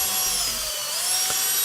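A drill spins a gold 3M 500 grit sanding disc against a plastic headlight lens, giving a steady high-pitched whirring hiss, close and continuous with no talk.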